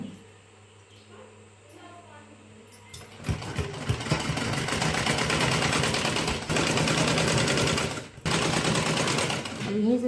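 Sewing machine stitching a blouse runs steadily and fairly loud for several seconds, starting after a quiet opening with talk and briefly pausing near the end.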